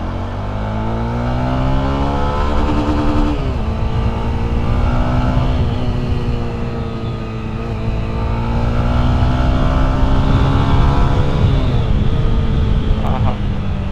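A Honda CB300F motorcycle engine accelerates while riding after its second service, with loud, sustained revving and rising and falling pitch as gears shift, steady throughout without speech.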